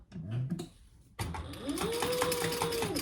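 A sewing machine stitches a D-ring onto a tag-along, starting with a short burst, pausing briefly, then running in a longer steady whirring, rattling stretch at moderate loudness.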